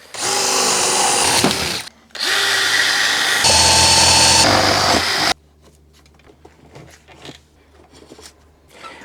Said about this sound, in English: I've just drilled a few holes so that I can feed the cable and everything is nice and neat.